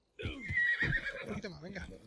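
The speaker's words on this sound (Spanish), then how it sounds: "Vuela, caballito! ¡Vuela, vuela otra vez, Fobo! ¡Vuela" A horse neighs loudly in the video game Assassin's Creed Odyssey, a close whinny lasting a couple of seconds with wavering pitch.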